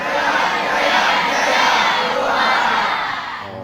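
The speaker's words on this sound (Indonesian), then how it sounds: "Ini katanya santri Darul Ihsan sudah ada yel-yelnya." Pesantren students of Darul Ihsan shout their group chant together, a loud, sustained crowd roar of many young voices with rising and falling surges throughout.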